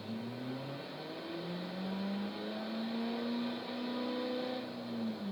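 A Ferrari 488 GTB engine revs up and down in rising and falling tones, faint and somewhat distant, with no talking.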